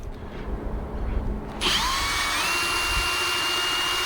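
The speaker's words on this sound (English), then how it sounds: "Now we're going to drill the correct size." A power drill starts up abruptly after a moment of quiet and whines at a steady high pitch, rising slightly as it bites in.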